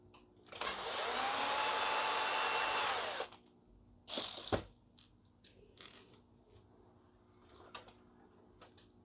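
A power screwdriver whirs steadily for about three seconds while removing a screw from an HP LaserJet Pro MFP M227fdw printer, then gives a short second burst, followed by quiet light handling clicks.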